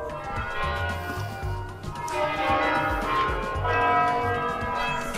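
Church bells peal continuously and fairly loud through the whole stretch, overlapping rings with a steady dense texture, heard outdoors during a roadside repair of a Vespa scooter wheel.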